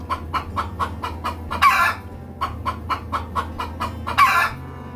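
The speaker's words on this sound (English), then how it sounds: "Chicken. This is chicken." Chicken clucking in a quick repeated rhythm, broken twice by a loud rooster crow, all close and clear with a low steady hum beneath, animated animal-names setting.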